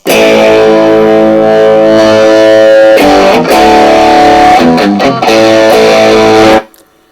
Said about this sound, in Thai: พอเรากวาดขึ้นมาจนสุดอีกมันจะแตกมาก